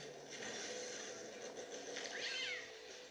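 A cat meows in a video game, a single drawn-out, falling cry heard faintly over a busy, steady wash of game sound and music.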